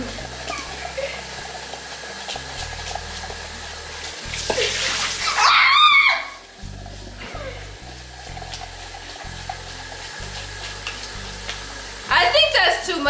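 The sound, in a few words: stirring baking mix in a bowl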